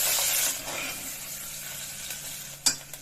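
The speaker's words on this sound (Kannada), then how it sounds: "ಫ್ರೈ ಮಾಡ್ಕೊಂಡ್ಬಿಡಿ" Onions with star anise, black and green cardamom, cloves and peppercorns sizzle in a pan for soya chunks pulao. A loud hiss at first fades to softer frying, then a sharp metallic clank and a lighter knock follow.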